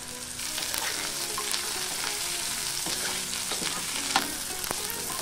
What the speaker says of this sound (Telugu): వెల్లుల్లి రెబ్బలు, అల్లం ముక్క, క్యారెట్ ముక్కలు వేసుకొని వేయించుకోవాలి